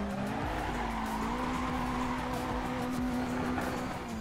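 A car in Assetto Corsa spins in place at full throttle, its tires squealing in a loud, steady skid over the engine's sustained roar, which climbs slightly in pitch throughout.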